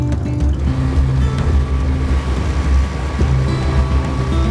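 Tohatsu outboard motor pushing a dinghy across open water, a steady close engine drone with low harmonic hum and wash of waves and spray running throughout.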